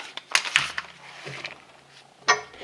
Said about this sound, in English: 17mm wrench right on the flat, and off it comes